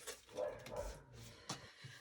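A puppy whimpers and yips indoors in a craft room, with a couple of short, thin cries standing out over quiet rustling and low background noise.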